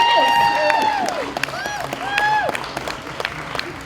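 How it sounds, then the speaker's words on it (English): Crowd at a 5K race day applauding a dog's foster mother, steady clapping and light cheering beneath a man's amplified-sounding voice speaking over it. "Round of applause"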